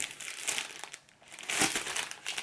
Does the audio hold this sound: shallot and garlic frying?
no